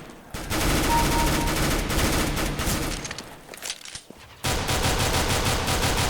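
Rapid automatic gunfire in Counter-Strike: Global Offensive, loud and sustained bursts that stop briefly with a few scattered shots before another long, dense burst resumes.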